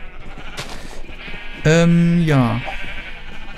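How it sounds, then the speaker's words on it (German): A sheep bleats loudly and up close in the video game Minecraft, one long wavering cry in the middle, with someone talking briefly around it. "Haufenweise Schafe."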